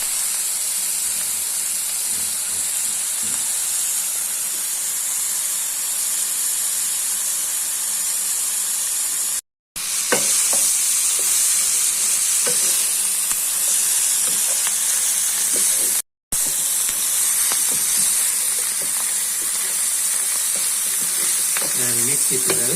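Capsicum and cabbage are stir-fried in butter with salt for egg fried rice, a loud continuous close-up sizzle with steady hiss. Scraping and stirring knocks run through it, and the sound briefly cuts out twice.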